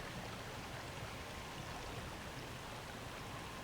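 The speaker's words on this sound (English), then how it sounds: "Here's some more of our creek" A creek runs through wooded property with fallen trees, giving a steady, close, broadband rush of flowing water that holds even and unbroken throughout, with no voices.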